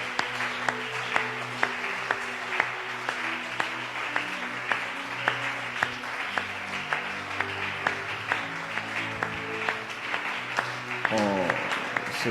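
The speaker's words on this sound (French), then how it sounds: "Acclamons très fort" A church congregation claps in a steady rhythm throughout, with crisp, evenly spaced beats over sustained musical tones and voices.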